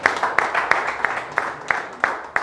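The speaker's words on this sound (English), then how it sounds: "Can we give him a big round of applause?" Rhythmic, evenly spaced clapping at a blood donation drive event in Uganda, a handful of crisp claps in steady beat, moderately loud and close, as if led by one or a few people.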